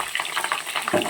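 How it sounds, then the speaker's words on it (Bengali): Potato pieces fry in hot oil for Bengali doi chicken, a busy close crackle and sizzle with brief stirring scrapes. "সবার আগে আলুগুলোকে সুন্দর করে লাল লাল করে ভেজে নেব"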